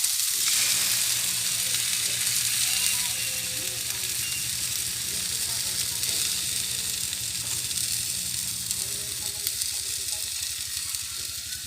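Eggs frying with tomatoes in a pan give a loud, continuous sizzle and hiss close up, steady throughout with slight crackles and no talking.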